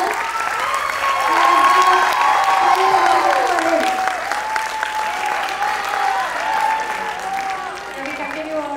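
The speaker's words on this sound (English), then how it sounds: "A big round of applause for his father." Sustained audience applause at a school event, a dense steady patter of many hands clapping, with some voices mixed in under it.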